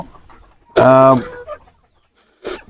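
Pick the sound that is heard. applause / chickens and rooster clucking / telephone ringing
chickens and rooster clucking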